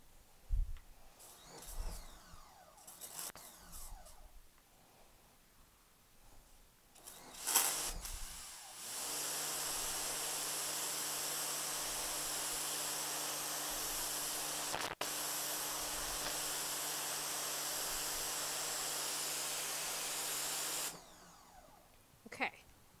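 Sun Joe SPX3000 electric pressure washer with the green 25-degree nozzle cleaning a dark spot, a loud steady hissing spray with a tonal motor hum lasting about twelve seconds, preceded by quiet handling noises and ending abruptly.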